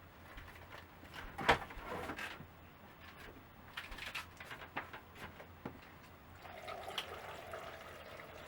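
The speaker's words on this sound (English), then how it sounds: "We will add water." Water poured into a crockpot full of chopped beets and carrots for borscht, a gentle splashing and trickling pour over about eight seconds with a few louder spatters, close by in a quiet kitchen.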